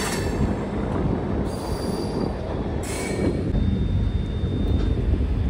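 Devagiri Express passenger train braking to a halt, steady rumbling wheels with high metallic brake squeals and whines that rise and fade, loud and close, with no one speaking.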